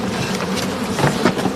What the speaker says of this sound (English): I'm being attacked by bees.